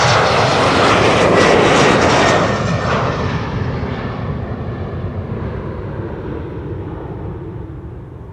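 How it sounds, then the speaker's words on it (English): An SAS Embraer 195 jet leaving Amsterdam Schiphol for Copenhagen roars loudly at first, then fades steadily into the distance as it climbs away, with no talk over it. "SAS Embraer 195 to Copenhagen."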